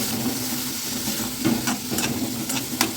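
Steady sizzling of onions and tomatoes sautéing in oil, with soft scraping and stirring clicks from a utensil scattered throughout, close up and continuous.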